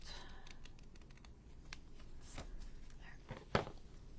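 Scissors trim the edge of junk journal paper, giving one short, sharp snip after a stretch of quiet, soft handling sounds, all close and fairly faint.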